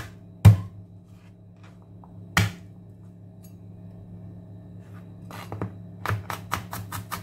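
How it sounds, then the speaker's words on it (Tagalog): Garlic cloves are crushed with a knife on a board, a few sharp separate thuds followed by a quick run of rapid knocks near the end, close and fairly loud against a quiet hum. "Unahin natin yung bawang mga loads. Yan, i-crush lang natin."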